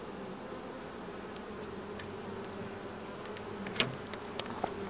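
Honeybees buzzing during a hive inspection, a soft, steady drone of many bees with a few faint clicks and knocks of the frames, heard quietly at close range.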